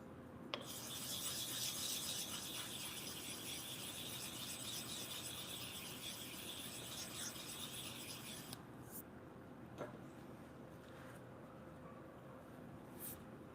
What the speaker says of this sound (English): set of passes with this chisel because this is really a heavily used one here